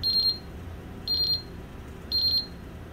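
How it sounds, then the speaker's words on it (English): A Honeywell gas detection system sounds its CO gas sensor pre-alarm, three identical short high-pitched electronic beep bursts at steady one-second intervals over a low background hum. "Test cell 4. CO. Gas sensor. Pre-alarm."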